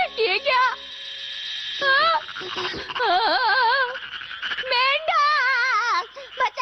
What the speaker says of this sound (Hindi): मेंढक बचाओ।